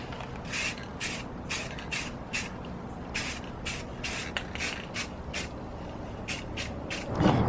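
Repeated short bursts of aerosol spray as a metallic gold base coat goes onto a 3D printed dagger, about a dozen close hissing blasts of varying length over a steady background hum.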